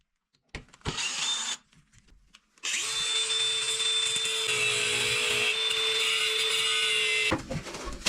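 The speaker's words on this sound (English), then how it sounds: "securely installing beautiful wooden railings or balusters on the upper floor using a drill machine" A power drill whirs briefly, stops, then runs again in one long steady high whine into wood while installing wooden railings on the upper floor of a stone house, before cutting off, close and loud.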